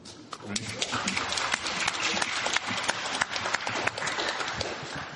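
An audience of community members at a San Pedro neighborhood council meeting applauds, with dense steady clapping throughout, close and fairly loud.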